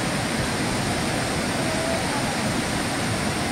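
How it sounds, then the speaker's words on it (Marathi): The Savatkada waterfall near Rajapur pours down behind dense, overgrown brush in a continuous broadband roar of falling water, loud and steady throughout with no pauses. "हे आतमध्ये तुम्हाला मध्ये दिसतंय हे धबधब्याचं पाणी पडतंय"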